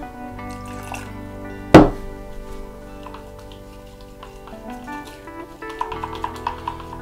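Water is poured and dripped into thick pouring paint, with one sharp splash early, then a faint trickle and drips under a soft musical background.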